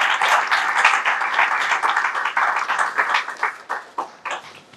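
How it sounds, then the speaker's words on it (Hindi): Sustained applause from an audience at a book launch ceremony for a poetry collection, dense clapping that holds steady and then thins into scattered individual claps toward the end. "बहुत सी तालियों की गूंज में"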